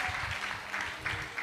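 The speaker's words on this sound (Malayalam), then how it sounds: "നിങ്ങൾ എന്താ കൈയടിക്കാത്ത?" Clapping from a congregation at a Christian prayer and healing gathering, a steady, fairly soft patter of many hands that swells in a few small surges and carries no clear talk.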